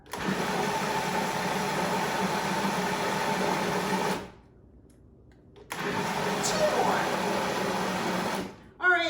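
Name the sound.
blender pulsing ingredients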